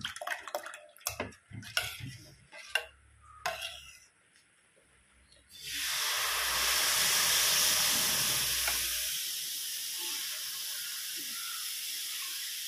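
Rava dosa batter hits a hot griddle with a sudden loud hiss that swells, holds for a few seconds and then fades to a softer sizzle, after some clattering kitchen handling sounds.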